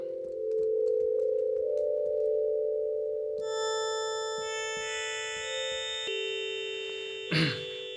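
A soft, smooth wavetable synthesizer tone from a Waldorf Blofeld holds a steady pitch, then bright overtones and higher notes join, with a brief noisy burst near the end.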